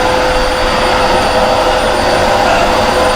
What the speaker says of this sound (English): Now I'm using my bypass motor.